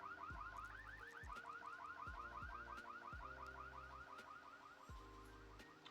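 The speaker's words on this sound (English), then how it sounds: "I'm surprised they're sleeping through that alarm." A car alarm in The Sims 2 wails steadily throughout, its rising, repeating siren sweeps cycling over a pulsing low tone, loud and continuous with no voices.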